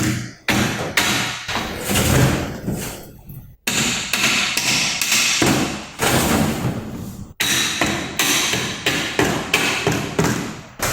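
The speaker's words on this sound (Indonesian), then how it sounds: "Di sini tentu menggunakan palu plastik" Repeated sharp knocks from a plastic hammer striking a manual transmission case during an overhaul, loud and close, in quick bursts separated by brief pauses.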